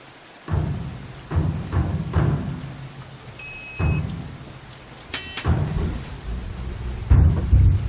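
A thunderstorm with steady rain hissing throughout, broken by several deep rolling rumbles of thunder at irregular intervals, in a Tamil-dubbed action film.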